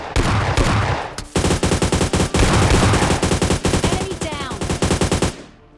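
Rapid bursts of gunfire in PUBG Mobile Lite, loud and close, firing in quick rhythmic volleys with brief pauses, then stopping abruptly at the end.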